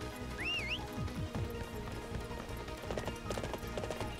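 Rhythmic hoofbeats of a horse clip-clopping in the Warriors Orochi 3 video game, a faint, even trot repeating throughout amid game music and a brief whinny-like chirp early on.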